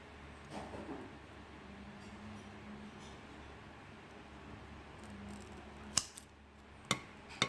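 Sterilized shears snipping a Rhaphidophora tetrasperma plant: a quiet room hum, then a few sharp, crisp clicks of the blades closing, spaced apart near the end.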